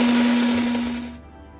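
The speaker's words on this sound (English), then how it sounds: "grind it to a very smooth paste" A blender whirs at full speed, grinding marinade ingredients into a smooth sauce with a steady high hum, then the motor cuts off and spins down.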